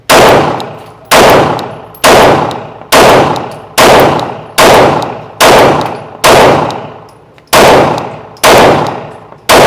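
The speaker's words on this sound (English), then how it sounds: "And let's take our first shot." Glock 45 pistol fitted with a red dot sight fired in a slow series of about ten loud, sharp shots, each cracking report ringing out and decaying before the next, evenly spaced at roughly one-second intervals.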